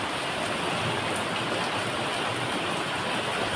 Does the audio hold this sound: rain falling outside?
yes